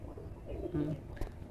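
A Pakistani-breed pigeon gives a single short, faint coo at close range over a low, hushed background.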